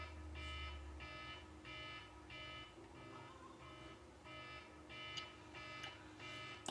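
An alarm beeps in a steady repeating pattern of short bursts, faint and a little distant, alone with no talk over it.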